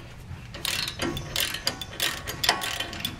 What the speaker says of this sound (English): we'll take the top and bottom bolt out and swing this caliper out of the way